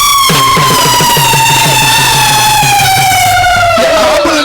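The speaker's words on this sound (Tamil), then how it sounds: "வந்துருச்சா ஆம்புலன்ஸ் வந்துருச்சு" A loud wailing ambulance siren effect rises and falls in steady cycles during a Tamil stage comedy drama, sounding alone and dominating the scene.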